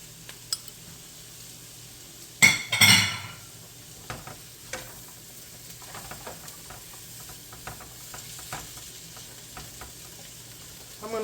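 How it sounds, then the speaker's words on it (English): Squash frying in a pan for a curry coconut chicken linguine, with a sharp burst of sizzle and stirring early on, then a soft steady crackle with scattered ticks. "Cook down the squash a little bit."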